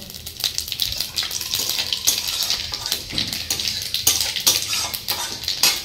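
Panch phoron, a Bengali five-spice mix, crackles and sizzles in hot oil, with irregular popping bursts and a steady frying hiss, close and fairly loud.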